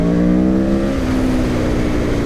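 A 2017 Aprilia Tuono motorcycle engine revs hard in second gear at full throttle, a loud, close, rising howl with the pitch climbing steadily and a slight stutter as traction control intervenes.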